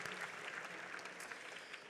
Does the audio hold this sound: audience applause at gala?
yes